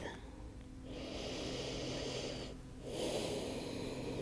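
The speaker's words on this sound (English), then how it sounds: "One more big breath" Two deep, audible breaths during a post-snowboarding yoga recovery exercise, a long airy inhale followed after a short pause by a stronger, louder breath, close and clear with no talking.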